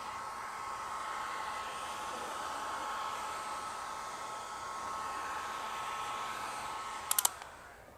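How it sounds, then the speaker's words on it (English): A heat gun warming a vinyl beadlock wrap on a Bronco gives off a steady, close whooshing blow for several seconds, then a couple of sharp clicks as it shuts off and fades. "We are going to use that heat gun on that inside edge for sure."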